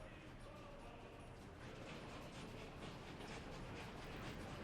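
Trains in the video game Workers & Resources: Soviet Republic make a continuous rolling rumble with faint clicking wheel rhythm, steady and moderately distant, with no voices over it.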